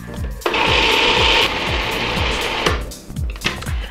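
Cooked black beans are mashed and mixed for homemade bean burgers. A close mechanical whir churns in a steady rhythm for about two seconds, then eases off into softer, scattered scraping.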